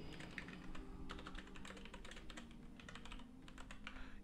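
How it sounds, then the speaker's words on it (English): Fingers type on a computer keyboard in a quick, uneven patter of close, soft key clicks with no talking. "you would just click the spell tick box and type the name of the spell"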